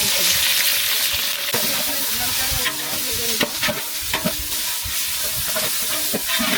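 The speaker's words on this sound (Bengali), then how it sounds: "তেলটা গরম হয়ে আসছে এখন আমি দিয়ে দিচ্ছি গোটা তেজপাতা আর কাঁচা মরিচ আর পেঁয়াজ" Whole bay leaves, green chilies and onion drop into hot white cooking oil, producing a loud, busy sizzle with repeated sharp crackles and scraping stirs, close up and without voices.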